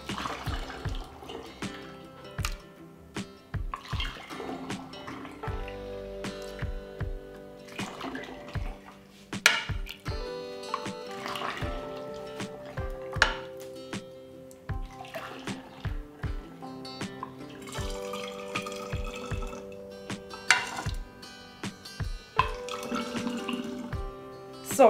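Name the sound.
homemade juice being poured into bottles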